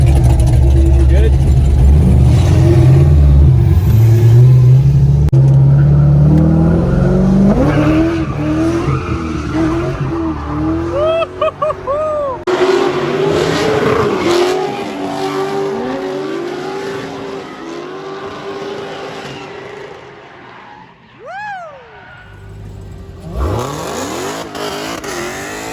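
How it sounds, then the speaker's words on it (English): A Corvette Z06 drift car on grippy 335 Michelin race tires revs hard and slides at dusk, engine climbing and tires squealing in long skids, then easing off with scattered shorter squeals and engine bursts toward the end. "This thing's a lot of work to get it to drift with the stock steering angle, these grippy 335 Michelin race tires"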